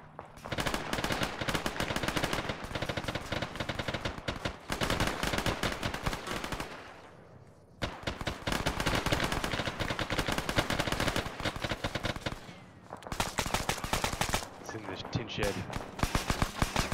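Sustained automatic gunfire in the military shooter ArmA III, loud bursts of rapid shots filling most of the stretch with two brief pauses, while voices talk over radio-style chatter.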